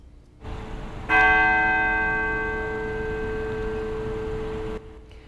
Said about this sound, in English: commemorated the life of Queen Elizabeth with 96 tolls of their church bells